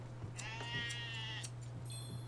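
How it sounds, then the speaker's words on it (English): Sheep bleating in the Harvest Moon video game while being washed: a few wavering, tonal bleats over a steady electronic hum, with short bursts between calls. "So we gotta wash our sheep."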